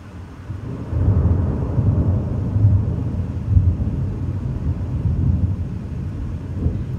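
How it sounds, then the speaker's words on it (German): Thunder rolls and rumbles deep and continuously through a thunderstorm over Berlin, with no voices present. "es blitzt und donnert immer noch"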